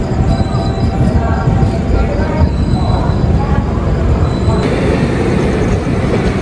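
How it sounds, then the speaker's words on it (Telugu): A train arriving at a station platform rumbles steadily close by, a continuous low roar of wheels and carriages with faint squeals, loud throughout; people talk faintly in the background. "సో ప్లాట్ఫామ్ నెంబర్ 5కి వస్తుందమ్మా ట్రైన్"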